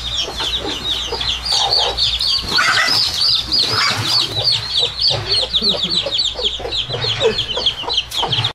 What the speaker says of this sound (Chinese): 这个母鸡好凶啊，